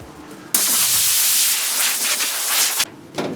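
Sprayway glass cleaner hisses from an aerosol can onto a Karmann Ghia car body under restoration, one long continuous close spray burst of about two seconds, followed by a shorter fainter spray.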